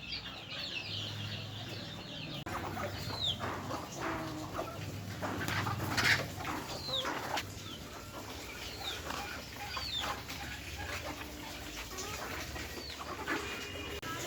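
Native village chickens on a farm cluck and call repeatedly at close range, a few sharper squawks rising over a steady low background hum with no talking.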